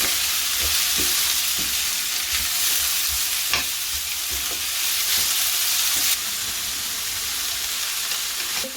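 Onions, curry leaves and green chillies fry in oil in a pan for potato aviyal, a constant close sizzle broken by irregular scraping stirs over nearly nine seconds, with no speech.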